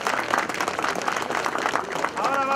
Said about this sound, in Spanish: Un fuerte voto de aplauso para nuestra madre.